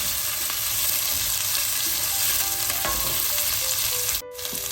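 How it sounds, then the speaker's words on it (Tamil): Curry chili peppers sautéing in a pan for a potato curry, a steady close sizzle and frying crackle running throughout, briefly cut off near the end. "இதில் கறிமிளகாய் சேர்ப்போம். சேர்த்துட்டு நல்லா எல்லாத்தையும் சேர்ற மாதிரி வதங்க விடுவோம்."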